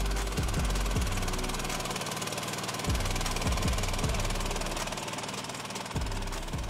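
A Motordogs ATV of about 120 kilos strains in dirt while towing a vehicle of more than two tons, its engine droning steadily and loudly with repeated low knocking thumps throughout.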